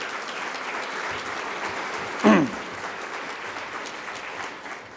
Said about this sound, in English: everybody here should give them a round of applause